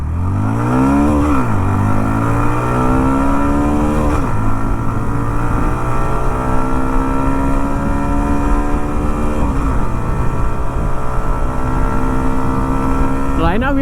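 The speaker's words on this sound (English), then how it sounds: "Right now we are riding on the power mode. That's the reason the motorcycle accelerates much more quickly." A Hero Xtreme 125R motorcycle accelerates hard from standstill to 60 in power mode on an open road, its loud engine climbing through several gear changes with repeated rising whines under heavy wind rush.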